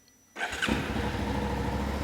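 Silence, then a motorcycle engine cranks and fires up, settling into a steady rumbling idle close by.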